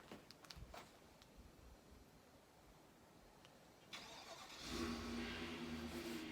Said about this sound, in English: I'm going to try and command start the truck this morning.